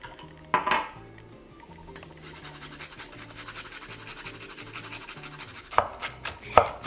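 A knife chops pecans on a board in a home kitchen, with sharp clacks at the start and end and a quick series of softer cuts between, close and clear without talk.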